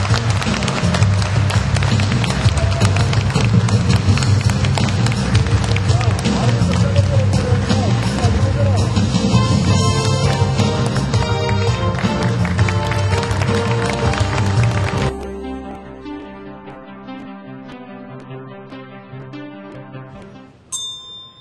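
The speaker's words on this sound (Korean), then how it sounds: "큰 박수로 맞으시기 바랍니다" A large crowd claps loudly and steadily with music at a Democratic United Party leadership and supreme council joint campaign rally in Jeju, welcoming the candidates; the din drops off sharply about two-thirds through, leaving quieter music and a voice.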